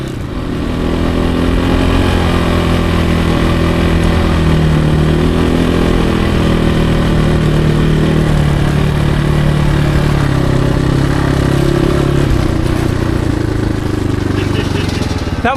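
A motorcycle with a bent gear lever crawls along in first gear on a slippery slope, its engine a loud, steady low drone close to the microphone with slight shifts in pitch.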